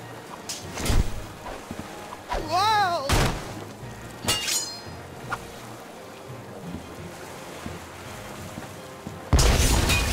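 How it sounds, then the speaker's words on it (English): Several heavy cannon booms go off at irregular intervals in the video game Tales of Monkey Island, with crashing bursts and sweeping sound effects around them, ending in a loud blast. "Cannon fire would go great with these multiple concussions."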